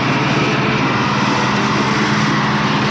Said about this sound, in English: Del Monte Foods is brought a pea harvester to the parade.